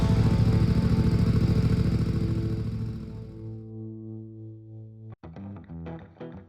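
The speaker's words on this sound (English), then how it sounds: "let's fire up the bike and hit the road" A Voge DS625X adventure motorcycle engine runs loud and close, its steady drone fading away, then a sharp restart brings choppy revving bursts.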